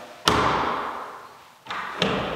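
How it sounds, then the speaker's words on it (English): Original old Victorian house door swung shut against the striker: one sharp wooden thud followed by a fading rattle, then two quicker knocks close together near the end. "All right, let's see how well this door closes now."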